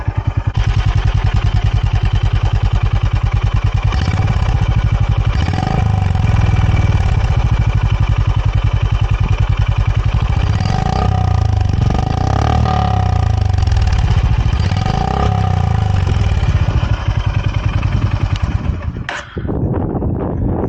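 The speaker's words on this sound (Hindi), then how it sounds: "मैं आपको इसका एग्जॉस्ट का साउंड सुनाता हूँ" A Honda H'ness CB 350 motorcycle idles loud and close with a steady, thumping single-cylinder exhaust beat, blipped into a few short revs before the engine cuts off near the end.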